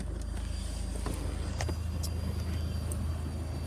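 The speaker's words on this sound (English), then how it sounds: "The engine sounds very nice and smooth." A Ford Mondeo engine idles smooth and even with no flywheel rattle, a quiet steady hum heard close with faint ticks over it.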